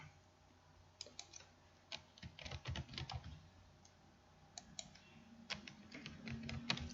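Keystrokes clicking on a computer keyboard while text is entered into a presentation slide, including presses of the Enter key; irregular bursts of close, light taps with short pauses, no speech.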